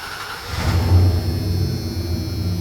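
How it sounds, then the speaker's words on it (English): A 1994–2002 Dodge Ram 1500 truck engine starts after a fuel pump replacement: a brief crank, then it catches and settles into a low, steady run close by. "Turn it back off, then go ahead and do it again and start the vehicle."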